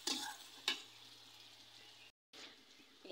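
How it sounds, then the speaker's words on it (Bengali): Onions frying in a pan for a Bangladeshi pangas fish curry, a soft, steady sizzle with a couple of stirring scrapes and a short cut-out in the middle. "পেঁয়াজ ভেজে নিচ্ছি।"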